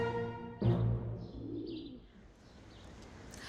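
Pigeons coo softly and chirp in downtown Berlin against a steady city hum, with a brief louder burst near the start and faint calls fading afterward.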